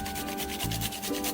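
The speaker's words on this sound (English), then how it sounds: "just use a normal grater to grate it" Fresh coconut chunks rub against a normal hand grater in quick, rhythmic rasping strokes, close and continuous with no talk.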